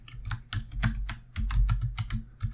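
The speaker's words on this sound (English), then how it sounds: "so I'll type in our password." Rapid typing on a computer keyboard while entering a Wi-Fi password during Raspberry Pi setup: close, crisp key clicks in quick irregular bursts, with no talking.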